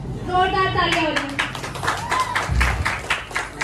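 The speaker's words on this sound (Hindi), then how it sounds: "जोरदार तालियां बजाएं।" An audience at a preschool Geeta Jayanti event claps in a steady, dense patter that runs beneath a voice talking over it.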